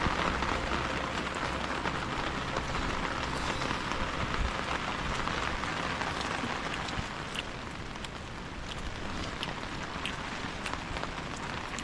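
Monsoon rain falls outdoors in a natural setting, a steady, even hiss of drops on surfaces that stays constant and moderately loud for the whole stretch, with no voices.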